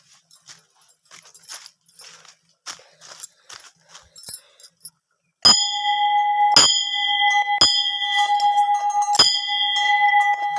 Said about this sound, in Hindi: घंटी भी बजा ली है मैंने।